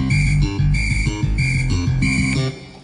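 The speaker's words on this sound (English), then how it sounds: "the note that was used in the module corresponds with the whistle noise on the keyboard" A synthesized whistle tone from a MIDI drum kit repeats in short bursts over a busy electronic drum pattern, loud and rhythmic, roughly four times in quick succession, playing an Amiga MOD tune converted to MIDI.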